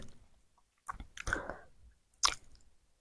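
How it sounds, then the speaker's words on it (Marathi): Someone chews a mouthful of chickpea-leaf bhaji cooked with oil and salt, a few close, quiet, moist crunching bites separated by short silences. "आपण टेस्ट करून बघूया कशी काय भाजी झाली आपली"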